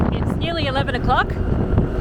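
Wind buffets the microphone during a motorbike ride into Kampong Chhnang, Cambodia, as a loud, continuous rumble with a voice faintly audible underneath.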